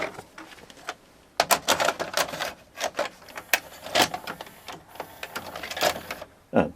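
A VHS video recorder loads a tape and then ejects it, giving a close series of mechanical clicks, whirs and clunks with irregular rhythm and one final sharp thunk.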